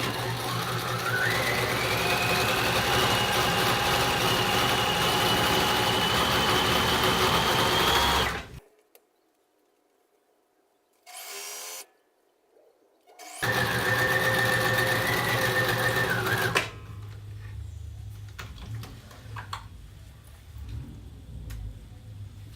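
A sewing machine runs at high speed stitching men's slacks, a loud steady whirring hum that stops abruptly, gives one brief burst in the quiet gap, then resumes at full speed before dropping to softer ticking and rustling.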